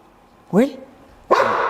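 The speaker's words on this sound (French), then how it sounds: "il y a les loups qui sont dehors là, mes autres chiens, ils font les fous" Dogs bark outdoors, two sharp loud barks about a second apart, the second rougher and longer, heard on their own without talk.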